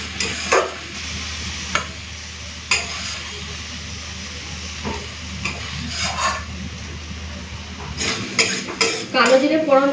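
Cooked ash gourd ghonto, dried down with no liquid left, is scraped and tipped out of a cooking pan, giving close metallic clinks and scrapes of utensil on pan, with a faint sizzle underneath.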